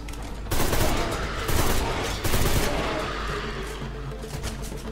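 Gunfire in the video game Deadfall Adventures: loud bursts of shots and crashing impacts in quick clusters, with heavy blasts near the start and middle before tailing into a rougher, busier rumble.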